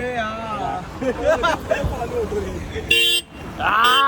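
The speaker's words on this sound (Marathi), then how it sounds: "अरे हॉर्नचा आवाज कर्कश बोललो, गाडीचा आवाज नाही" Harsh car horn honks at a CNG filling station in Maharashtra during a monsoon road trip from Mumbai to Ganpatipule: a sustained blast, then a second one near the end, loud over people chatting.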